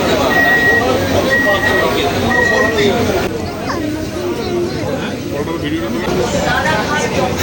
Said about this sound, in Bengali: এই মুহূর্তে আঠারো পঞ্চাশে এসি লোকালটা ঢুকছে three one six three seven Ranaghat AC local